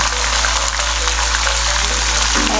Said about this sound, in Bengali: এটা ধুয়ে একটু পানি দিয়ে দিব।